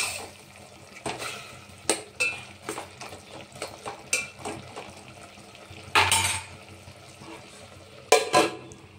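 Eggplant chutney with tamarind and garlic is stirred in a frying pan: repeated scraping clinks of a spoon against the metal over a low, steady sizzle, with a few louder knocks.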